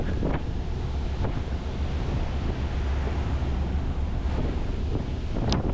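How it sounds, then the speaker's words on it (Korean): Strong, steady wind roars over a rough, stormy open sea beside a tuna fishing vessel, with waves crashing and surging throughout and a few harder gusts and splashes standing out. "순식간에 폭풍우 치는 바다가 되었습니다."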